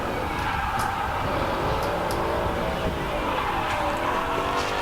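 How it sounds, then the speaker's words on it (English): A 5-liter V8 GT car spins and smokes its tires on a track at a SEMA ride event, a steady loud engine roar with wavering tire squeal, heard continuously and up close. "That car is smoking the tires from the beginning of this drive to the end of this drive."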